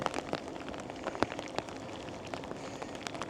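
Steady rain falls outdoors during a storm in a valley, a dense broadband patter with scattered sharper drop taps close by, continuous and moderately loud with no voices.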